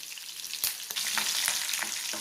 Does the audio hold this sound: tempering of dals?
yes